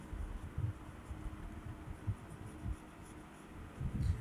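Writing on a board or paper during a maths lesson, low faint scratchy strokes in irregular bursts under a steady background hiss.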